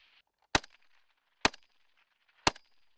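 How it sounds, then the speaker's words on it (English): Marines on a live-fire assault range lay down suppressing fire: three sharp, loud single gunshots spaced about a second apart, each with a short echoing tail, over faint distant chatter. "They maintain suppressing fire on that target."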